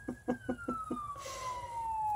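An ambulance siren wails distantly with a sliding tone, while several short knocks sound close by near the start.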